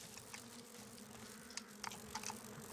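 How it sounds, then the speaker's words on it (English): Wasps buzz in the Biohazard Outbreak File 2 video game, a faint steady drone with a few brief sharper buzzes passing by over a low hum. "The wasps are just awful, aren't they?"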